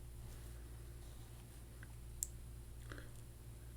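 A single sharp computer mouse click sounds once, faint and close, against a quiet room hum while opening a page setup dialog box in Excel 2016.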